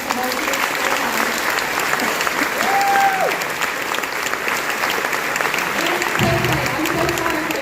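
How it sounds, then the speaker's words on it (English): Sustained applause from a school band concert audience in Denver, a steady broadband wash of many hands clapping for the student soloists, with a brief voice and some low rumble near the end. "we give a big round of applause to all of these solos"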